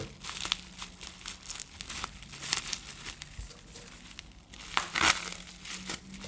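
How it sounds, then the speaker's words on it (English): Bubble wrap packaging being cut open: steady crinkling and crackling of plastic with sporadic sharper snaps, close and fairly quiet, with no talking. "just got to cut through this bubble wrap very carefully"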